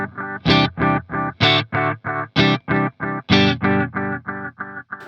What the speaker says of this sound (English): it's just a really nice kind of bucket brigade style delay